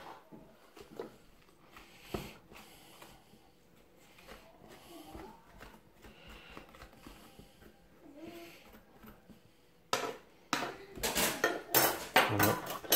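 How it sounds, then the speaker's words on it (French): A big spoon scraping out the inside of a pumpkin half for soup, faint intermittent scrapes and knocks that give way to louder, rapid metallic clatters and scraping strokes near the end. "vous utilisez une grosse cuillère pour gratter l'intérieur du petit rond"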